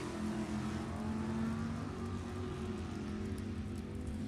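Nostalgia drag racing cars, a '68 Camaro and a '73 Pinto, launch at an NHRA Heritage Series event. A loud, dense engine roar holds steady for the whole few seconds.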